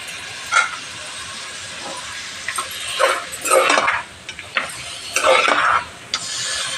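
Mutton pieces going into a hot pan for mutton curry, with bursts of sizzling and stirring scrapes rising and falling over a steady frying hiss, close and moderately loud.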